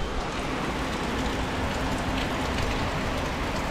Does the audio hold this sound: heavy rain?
yes